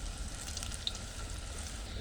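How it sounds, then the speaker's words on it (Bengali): Sliced onions and cumin seeds frying in hot oil in a pan, giving a soft, steady sizzle that stays fairly quiet throughout. "এই যে পেঁয়াজ হালকা লাল লাল ভাজা হয়ে গেছে তার মধ্যে আমি এই যে জিরে দিয়ে দিন"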